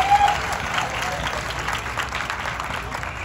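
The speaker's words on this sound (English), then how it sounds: "let's give another round of applause for Barbara" Audience applause at the Delta Park Powwow 2023, a Native celebration honoring a woman named Barbara: dense, steady clapping from a crowd fills the scene at a moderately loud, even level, slightly stronger at the start, with no voices standing out.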